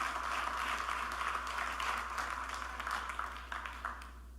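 Church congregation applauding in a steady, dense wash of clapping that holds for several seconds, then thins and fades out near the end.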